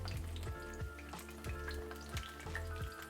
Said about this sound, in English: It's sizzling away, it's going, it's doing its thing.